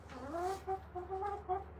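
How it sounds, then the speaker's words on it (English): Hens clucking inside a coop holding about twenty chickens, a few soft murmuring calls in short bursts close by, with a brief louder squawk at the end and no talk. "so basically 20 chickens in here"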